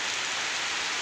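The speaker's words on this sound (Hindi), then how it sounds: "ये मौसम की बारिश है" Steady rain falling outdoors, a dense, even hiss with no breaks over a short stretch.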